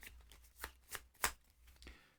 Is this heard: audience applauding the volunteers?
no